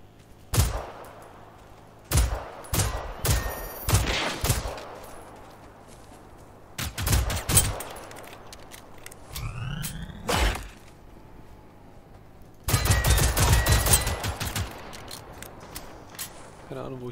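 Gunfire in the video game Generation Zero comes in repeated sharp bursts and rapid volleys, loud and close, with quieter gaps between them, and a long sustained stretch of fire near the end.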